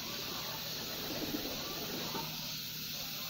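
A racing pigeon coos softly and briefly in a pigeon loft, faint under a steady background hiss.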